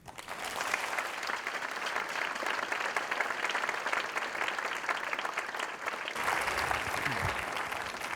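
An audience at a science talk in a theater applauds steadily, dense clapping from a crowd that holds for several seconds before thinning slightly near the end.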